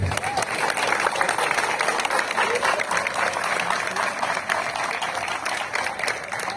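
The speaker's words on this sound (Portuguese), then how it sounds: "Vamos receber então com uma grande salva de palmas" A municipal ceremony audience in Ferraz de Vasconcelos gives the mayor a big round of applause, steady dense clapping from a crowd filling the whole stretch at moderate level.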